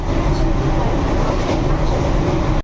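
A 15-car suburban local train at Virar station, its steady loud rumble of wheels and carriages filling the whole stretch before cutting off abruptly.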